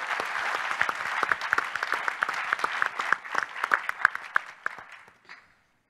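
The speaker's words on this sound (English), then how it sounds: "If we could welcome them all with a round of applause" An audience claps to welcome a panel of speakers at a policy discussion, dense applause of many hands that holds steady for about five seconds, then thins and fades out.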